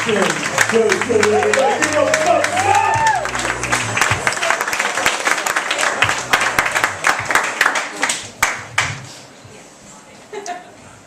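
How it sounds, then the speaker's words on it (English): At a stand-up comedy set, loud crowd applause and cheering fill the room, with a voice talking over it; the clapping thins out and fades toward the end. "put your hands together, start clapping, start clapping"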